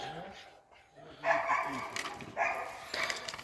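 Hunting laika dogs at a boar trial bark in short bursts, a few sharp, fairly distant barks with quieter gaps between them.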